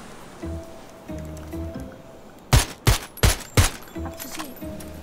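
Gunfire in a battle royale shooter game: four sharp, loud shots in quick succession mid-clip, with quieter game ambience and low engine-like tones before and after.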